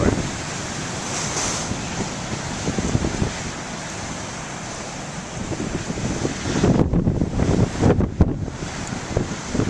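Ocean surf washes and crashes on the shore in a continuous broad roar with gusting wind noise on the microphone, swelling louder toward the end.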